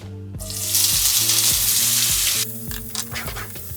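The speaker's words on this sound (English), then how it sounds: "We'll let that melt down, and then we'll throw our vegetables in." Vegetables dropped into a hot pan of melted fat burst into a loud, bright sizzle that holds steady, with scraping stirs and utensil knocks over low background music, the hiss easing slightly near the end.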